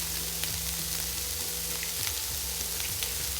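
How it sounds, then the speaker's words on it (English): Chorizo sizzles and crackles in a hot pan for a carbonara, a dense continuous frying hiss with small pops, close and steady, no talking. "Chorizo's in the pan."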